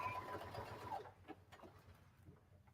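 A sewing machine back stitches patchwork seams of fabric scraps and old blue jeans in a short, close whirr that fades within a second, leaving faint rustling behind.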